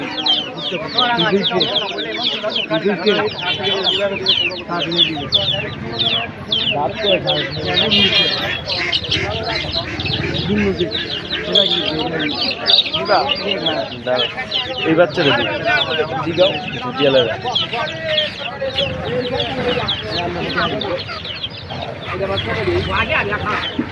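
Native chickens cluck and squawk steadily throughout, with people talking over them in a busy, crowded hill market.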